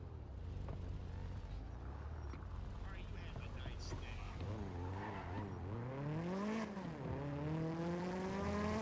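A car in GTA V on NoPixel revs through its gears, the engine pitch rising and falling repeatedly with some tire squeal, fairly quiet under people talking.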